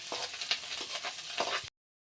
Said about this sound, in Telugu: ఇవన్నీ కూడా మంచిగా ఫ్రై చేసుకోవాలి